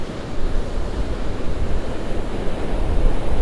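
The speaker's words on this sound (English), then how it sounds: "Some of those waves are huge for this coast of Florida." Large ocean waves roll onto Vanderbilt Beach on Florida's Gulf coast as Hurricane Helene approaches, making a constant loud roar of surf mixed with gusting wind noise on the microphone.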